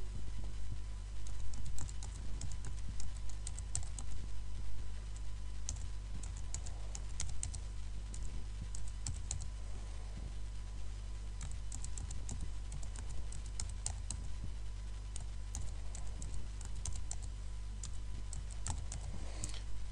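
Quiet typing on a computer keyboard while entering an email address during phpBB forum setup, soft irregular key clicks in steady runs over a low background hum.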